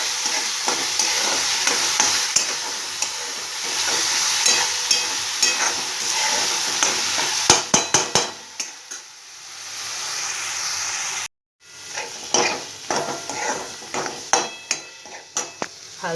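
Mustard seeds, cumin, onion and chili masala frying in oil in a pan, a loud continuous sizzle broken by clattering spoon-on-pan stirring strokes, with a brief dropout near the end and no talk.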